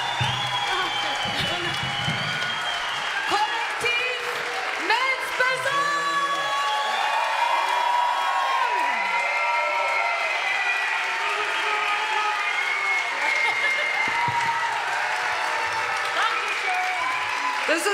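Concert audience at the Maxim Gorki Theater in Berlin claps and cheers after a set, sustained dense applause with whoops and shouts lasting throughout, a voice calling out over the crowd.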